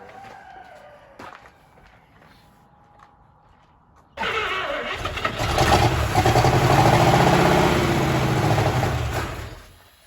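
A 1932 Chevy hot rod engine, built in the 1960s, cranks and catches after a quiet stretch, then runs loud and rough close by for several seconds before easing off.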